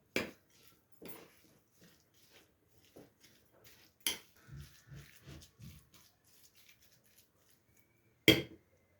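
Potato börek filling stirred with a glass of vegetable oil in a bowl, giving soft, irregular scraping and clinking of a utensil against the dish, with a few sharper knocks, quiet and close, without speech.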